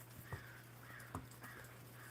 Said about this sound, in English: And you get a yay from the crows, or an I from the crows as well.